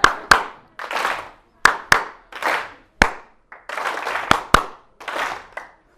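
An audience claps in unison in a hall, sharp single and double claps alternating with short bursts of scattered clapping, loud and close with quiet gaps between each round.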